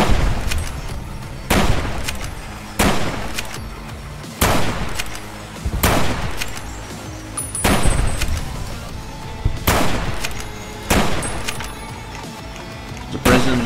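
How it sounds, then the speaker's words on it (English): Repeated rifle gunfire in Fallout: New Vegas, loud sharp shots cracking every second or two across the whole stretch, with in-game ambience between them. "whack the ranger on top to start shooting at Kimball's veteran rangers with his rifle."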